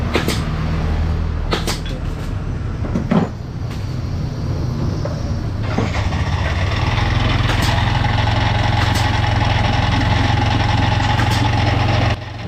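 A Yamaha NMAX scooter engine, noisy and due for overhaul, sputters to life after a few clunks and settles into a steady, loud idle that runs on continuously.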